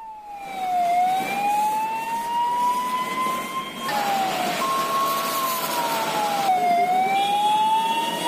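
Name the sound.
fire engine sirens arriving at a chemical factory fire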